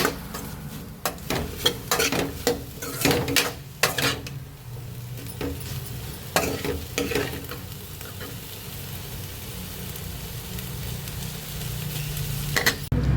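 Grated coconut stirred into pumpkin poriyal frying in a pan, with bursts of spatula scraping and clinks against the pan over a soft continuous sizzle, then a quieter stretch of frying.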